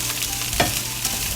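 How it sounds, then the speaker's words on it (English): Vegetables, including asparagus, sizzle in a pan over medium heat, a steady close frying hiss with a brief stir or scrape partway through, and no talking. "so back to medium heat. Have a nice sizzle going here."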